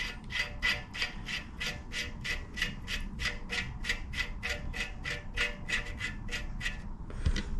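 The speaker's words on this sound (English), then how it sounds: "we'll just screw this on here and do it with one hand" Threaded part screwed on by hand at a workshop bench: a long run of about twenty evenly spaced ratcheting, rasping clicks in a steady rhythm, close and moderately loud, with a heavier knock at the end.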